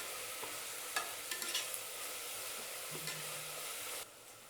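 Vegetables sauté in a pan for a vegetable sagu, giving a soft continuous sizzle with a few scraping stirs and clinks from a spatula, close but quiet, before the sizzling drops away near the end; no one speaks.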